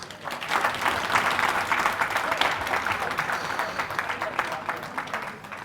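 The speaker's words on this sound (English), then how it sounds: "So we have to give him another big, big round of applause, please." Sustained applause from a seated audience at a national community conference in Adelaide, an even wash of many hands clapping at moderate volume, with some voices faintly mixed in.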